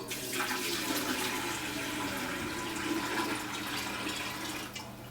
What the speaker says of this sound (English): Removing the lid, fill the filter top section with water.